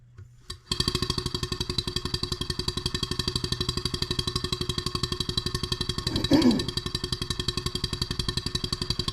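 A Stuart 7A steam engine is started on compressed air and settles into a fast, even mechanical chuffing beat that runs steadily throughout, with a brief louder swell midway.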